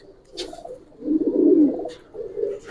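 A Giribaz pigeon at a loft gives a soft, low cooing phrase that swells in the middle and trails off, close and alone, with faint rustles around it.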